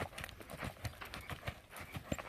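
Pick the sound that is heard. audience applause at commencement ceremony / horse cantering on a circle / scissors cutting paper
horse cantering on a circle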